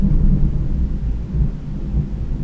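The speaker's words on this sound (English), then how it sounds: "so you might be able to hear the thunder outside" A deep rumble of thunder outside in a thunderstorm, loud and continuous, with rain likely mixed in; no voices.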